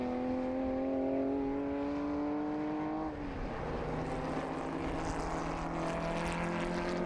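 A Ferrari 275 race car at Estoril Classics 2023 drives into the pit lane, its engine droning steadily and then dropping in pitch as it slows, the harmonic whine continuing under a broad roar of track ambience and wind.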